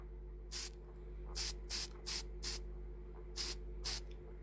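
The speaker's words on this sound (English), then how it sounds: "I'm gonna spray paint this one" An aerosol can spray-paints a handmade model hedge built from old Christmas decor, in seven short hissing bursts of about a quarter second each, close and fairly loud over a low steady hum, with no talking.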